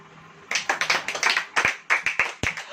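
Several people in a congregation clap hands together during a sermon, a close, loud run of individual claps in an uneven rhythm that starts abruptly after a brief quiet moment.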